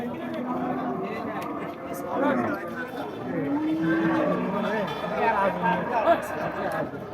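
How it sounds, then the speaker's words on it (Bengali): Medium-sized bulls and other cattle at the Satmile cattle market in Jessore give occasional low moos amid a dense background of crowd chatter, with people talking close by throughout. "মাঝারি সাইজের ষাট গরুগুলো সামনে বেশ দেখতে পাচ্ছেন"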